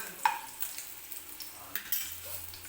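Crushed garlic sizzles softly in hot oil in a pan, with quiet stirring scrapes and clicks of a utensil against the pan, no talking.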